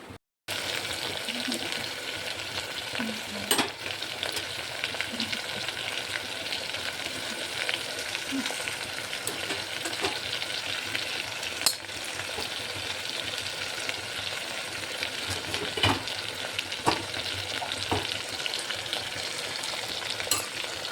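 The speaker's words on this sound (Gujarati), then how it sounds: "વઘાર નાખે આપણે શાક વઘાર નાખે" Potato curry sizzling and frying in hot tempering oil, with stirring scrapes and occasional clinks over a steady, close crackle that runs the whole time.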